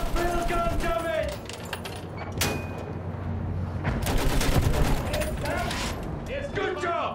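Field gun and gunfire in the Battlefield 1 Storm of Steel mission, heavy bursts of shots and booming blasts under constant combat noise, with someone talking loudly over parts of it.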